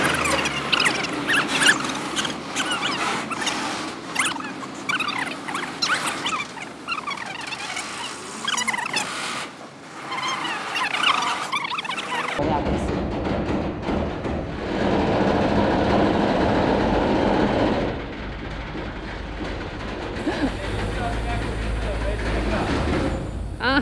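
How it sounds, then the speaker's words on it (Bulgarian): A train rolls along with metallic squeals and rumbling, then slows and comes to a stop under a steady hiss, while people talk nearby throughout. "понеже влака спря"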